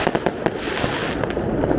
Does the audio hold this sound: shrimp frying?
no